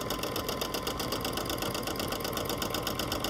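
A sewing machine runs steadily for free-motion stippling while quilting around an appliqué edge, giving a continuous, fast, even mechanical whir that fills the short stretch alone with no voices.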